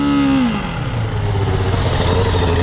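A Ducati 698 Mono single-cylinder motorcycle engine revs loudly up close, its pitch dropping and settling into a steady, throaty rumble.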